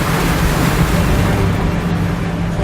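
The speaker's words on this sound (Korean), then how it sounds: "그런데 파도의 움직임이 예사롭지 않습니다." Rough sea waves surge around a small fishing boat at dawn, a dense continuous wash of water and wind noise, loud and close throughout.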